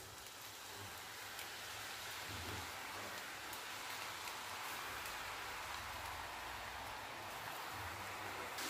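Aloo bhujia sev made from gram-flour dough fries in hot oil over a medium flame, giving a steady, close, dense bubbling crackle that holds at an even level throughout, with no talking.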